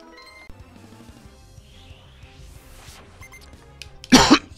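A single loud, short cough burst near the end from a Pokémon in the game Pokémon Shining Pearl, following quiet game music and chimes.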